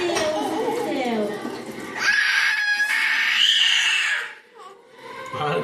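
A young girl screams and shrieks loudly at close range in long, piercing, wavering cries, with some babbling mixed in, and the noise trails off toward the end.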